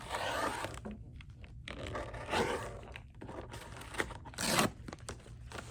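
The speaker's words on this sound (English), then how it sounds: "So I'm just gonna go right on that line and cut." Scissors or a blade slice along a paper cutting line in short rasping strokes, close and crisp, several separate cuts with brief pauses, no talking.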